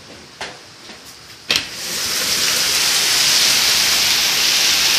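A heavy downpour at a plaza, with water pouring off a roof, builds into a loud, steady rushing roar after a couple of brief knocks.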